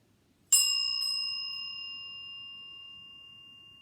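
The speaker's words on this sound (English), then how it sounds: "That would strike the bell" A large bell struck by a wooden log swung back and released rings out with one sharp strike, then a clear sustained tone that slowly decays, with a faint second tap shortly after the first.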